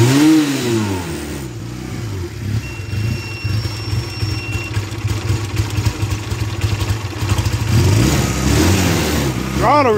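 Engine at an event revving under throttle, with a sluggish throttle response; loud, fluctuating revs rising and falling with a few sharp upward sweeps, with a voice talking over it.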